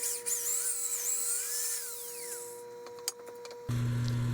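A drill bit grinds into a frozen axle bolt on a Wheel Horse Model 401 tractor, a steady high whine with wavering pitch that cuts off partway through, then a few clicks before a louder motor hum takes over.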